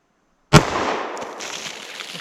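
.45 ACP pistol fired into a ballistic box holding a bologna pack, one sharp, loud report after a moment of silence, followed by a decaying echo and faint debris rattle.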